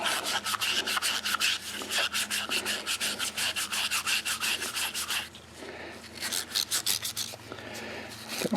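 A Scotch-Brite pad scrubs the inside of a John Deere JS60 push mower carburetor bowl in quick, rhythmic rasping strokes, close and steady, pausing briefly before resuming at a similar pace.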